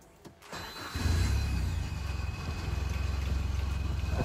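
A manual-transmission car's engine cranks and catches about a second in after the start button is pressed, then settles into a loud, steady, close low rumble with a faint pulse.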